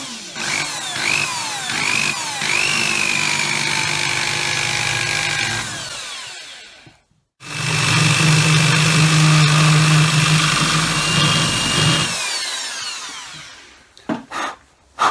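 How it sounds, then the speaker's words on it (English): A power drill with a bit enlarging holes in a plastic GoPro case, loud close whirring in two long bursts separated by a short pause, the pitch sliding as the bit bites, followed by a few sharp knocks. "We'll use this drill bit to make the holes a bit bigger."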